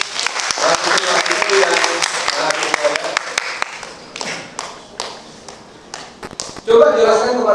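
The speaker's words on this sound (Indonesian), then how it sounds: "Tepuk tangan dulu untuk" Audience applause at a university field lecture, a dense patter of claps that fades out over several seconds, with scattered taps and a louder burst of clapping at the end.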